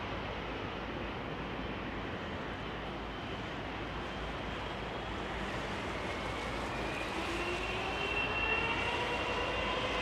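A jet engine spools up for departure at London Heathrow, a steady broadband roar that swells slowly from a distance, with a faint rising whine toward the end.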